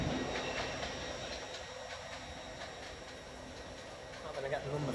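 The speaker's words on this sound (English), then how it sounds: "Heading out there is a 331 off to Leeds on the stopping service." Class 331 train pulling out of Doncaster on a stopping service to Leeds at night, a steady rumbling rolling drone with faint clicks and a slight swell at the end, beneath someone talking.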